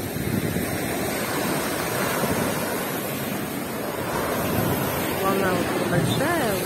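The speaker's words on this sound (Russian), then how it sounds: "Волна вот большая." Large sea waves roll onto the Crimean shore after windy weather, a loud continuous surf wash mixed with wind rumble, and a voice speaks briefly near the end.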